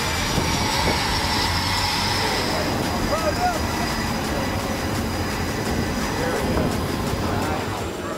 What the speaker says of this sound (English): Landing an F-18 on an aircraft carrier is challenging under normal conditions.